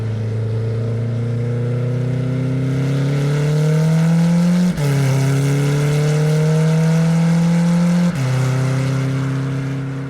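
A Chevrolet Corvette C8 Z06 with a naturally aspirated V8 revs loudly and steadily close by, pitch rising in long pulls with two sharp breaks as the engine drops back and climbs again, no talk over it.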